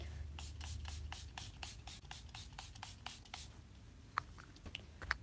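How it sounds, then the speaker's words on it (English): A Milani Make It Last setting spray gets about a dozen quick pumps in a fast, even rhythm of short misting bursts, close and soft, followed by a few scattered light taps. "I'm going to go ahead and use my Make It Last Milani setting spray."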